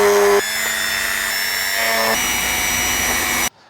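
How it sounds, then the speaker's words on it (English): A Dremel grinds a notch off the metal floor step of a VW Transporter van conversion: a loud, steady high-pitched whine with shifting tone that runs for over three seconds, then stops abruptly. "All I'm going to do is break out the Dremel and get rid of that little notchy thing"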